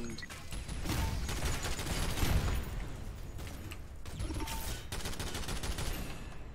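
Automated DMR turret gunfire in the video game SYNTHETIK, a rapid continuous stream of shots that forms a dense rattling barrage for several seconds, briefly easing before picking up again.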